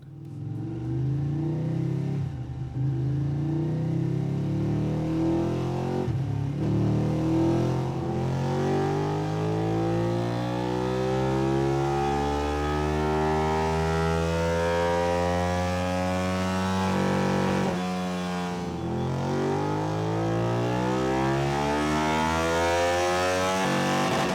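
A Ducati Panigale 959 engine on a dyno revs up in long, loud sweeps, its pitch climbing steadily through each pull before dropping off and climbing again, close and alone.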